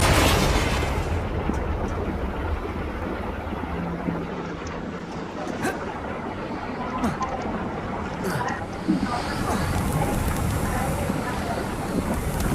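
Bombarda and Confringo spells explode in Hogwarts Legacy, dense booming blasts and rumbling bursts layered over constant loud game noise, with a few sharp crackles, close and heavy throughout.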